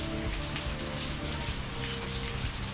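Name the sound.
rain falling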